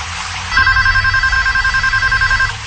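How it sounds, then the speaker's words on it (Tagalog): A telephone rings steadily for about two seconds with a continuous electronic trill, loud and alone against a low background hum. "mag-ring yung phone."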